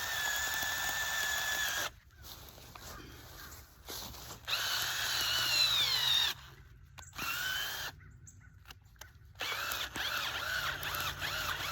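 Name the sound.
power drill boring with 2-inch bit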